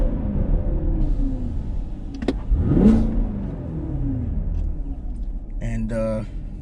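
A Chevy Camaro 2SS engine fires up with a rising surge, then drops into a rough idle and gives a short burst of revving near the end, with talk running over it.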